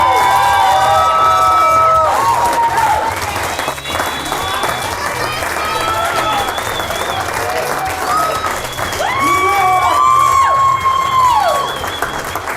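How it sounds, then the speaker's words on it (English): Loud, sustained applause and cheering from an audience honouring a Manager of the Year award winner, a steady dense wash of clapping with raised voices and whoops running throughout. "let's give a big, big applause to Vanessa, this year Manager of the Year."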